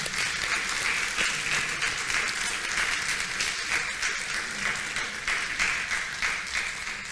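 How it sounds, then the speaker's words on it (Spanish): Steady applause from a church congregation after a sermon, a dense wash of clapping hands that holds at an even level throughout without voices on top. "Le damos un aplauso al Señor."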